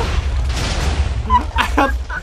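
Fireworks burst in the Minecraft video game as a cluster of sharp, crackling blasts in the second half, loud and close, with game sound running throughout.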